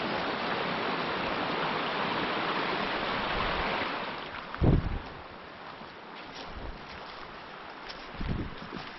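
A creek rushes through a narrow canyon in Utah, a steady broadband wash of flowing water with wind buffeting the microphone and a few low thumps of handling or footsteps.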